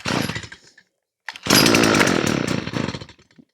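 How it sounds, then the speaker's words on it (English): A five-year-old, hard-worked Stihl FS45 string trimmer is cold started with the choke on: a short pull burst, a pause of near silence, then the two-stroke engine fires and runs loud and close for about two seconds before dropping off. "We're going to start this cold start test with a Stihl FS45."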